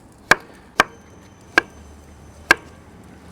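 A knife chops carrots into large chunks on a cutting board while a braised lamb shank in red wine is being prepared. Five sharp, loud, evenly spaced chops ring out close by, with quiet kitchen background between them.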